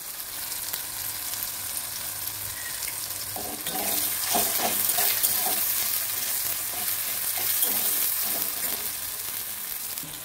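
Onions fry in oil in a pan just used for frying fish. A soft background sizzle swells partway through into louder frying, with clattering stirring strokes, and no one speaks.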